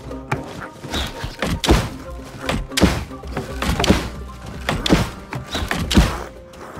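A turret is reloaded in the video game Last Oasis, giving a dense run of heavy mechanical thunks and clunks at an irregular rhythm over a low rumbling background, loud and close.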